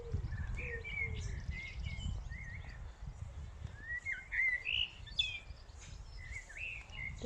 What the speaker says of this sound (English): Birds sing from dawn to dusk.